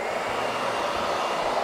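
A hair dryer blows steadily, drying pork belly skin for crackling, a loud continuous whooshing whir close by with no talking.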